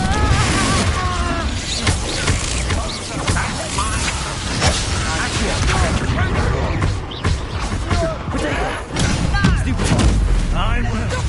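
Confringo fire spell blasts in Hogwarts Legacy, heavy booms, crashes and thuds in a chaotic battle, loud and near, layered with game voices and constant action noise.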